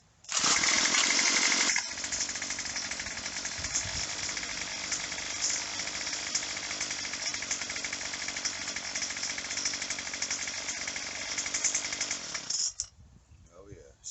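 A small gas engine on a Craftsman WC215 string trimmer sputters to life and runs steadily at a high, buzzing pitch, loud and close, then cuts off abruptly.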